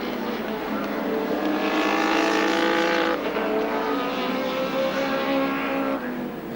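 Touring cars race at Sandown in 1986, their engines roaring loud and steady with a swelling pitch as they pass close by. A commentator speaks over the engine noise.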